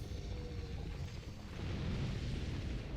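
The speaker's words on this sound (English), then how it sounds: "Watch out for the explosion" A boss explosion in Dark Souls II during a fight with the Heir: a sustained, loud, deep rumbling boom that swells and thickens in its second half, with no voices.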